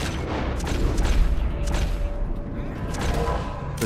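Gunfire in the Western video game Red Dead Redemption 2, with a repeater rifle in use, sounds as several heavy booming shots over a dense, noisy background.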